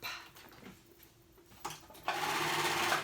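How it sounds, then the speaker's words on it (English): Sewing machine stitching a kids' polo shirt, starting with quiet, hesitant whirs and then settling into a fast, steady mechanical hum, close up. "Okay, so now I'm gonna go ahead and sew all this up."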